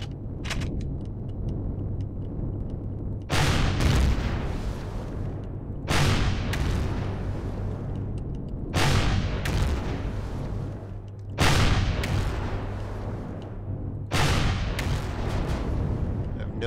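Gunfire in the space survival game Empyrion Galactic Survival comes as heavy booming bursts roughly every two to three seconds, loud and close over a constant low rumble.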